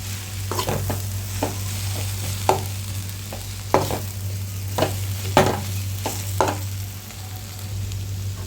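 Potatoes mixed into masala fry in a pan, a steady sizzle punctuated by several loud scraping stirs of a spatula at irregular intervals, close and clear with a low hum underneath.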